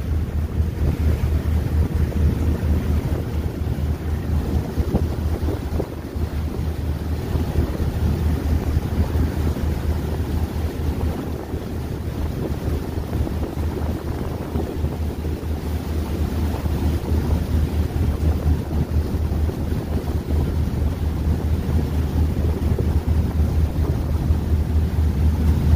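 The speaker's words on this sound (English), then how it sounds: "Windy around that corner." Strong wind gusting outdoors on the water while barges are moved, a loud continuous rumbling roar buffeting the microphone with a low droning undertone throughout and no speech.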